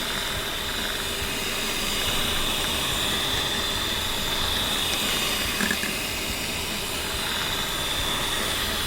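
A kitchen mixer blends milk, milk powder and sugar for rose tender coconut ice cream, giving a steady, close whirring hiss with a faint high whine that runs unbroken throughout, with no talking.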